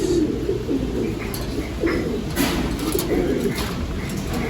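Pigeons in a loft and aviary give soft, low, repeated coos over a steady background hum, with faint scattered chirps and rustles from nearby birds.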